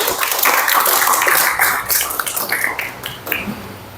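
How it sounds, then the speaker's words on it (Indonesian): A class of students claps together, a dense, close burst of applause that thins and turns patchy toward the end. "Tepuk tangan."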